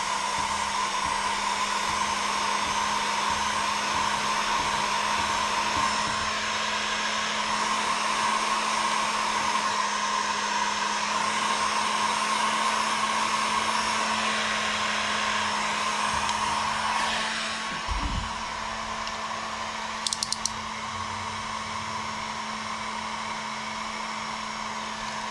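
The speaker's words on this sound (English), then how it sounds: "I'm gonna heat gun it up for a sec, and then we'll see here if I can get this loose here." Heat gun blowing on a part of a Turbobant M10 Lite electric scooter during a tubeless tire conversion, giving a steady, loud whirring hiss that runs unbroken for about eighteen seconds before a brief knock and a shift in tone.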